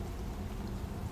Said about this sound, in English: The rain was pouring down.